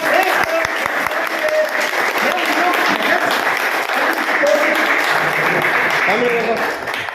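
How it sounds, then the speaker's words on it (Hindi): Loud, sustained applause from a crowd at a press club ceremony welcoming a guest, continuous dense clapping throughout with voices faintly mixed in. "जोरदार तालियां।"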